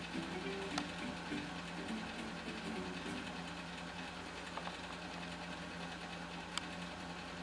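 A 1953 Singer 15-91 sewing machine stitching steadily, a continuous low mechanical whir with a fine, even rhythmic clatter, fairly quiet and with no talk.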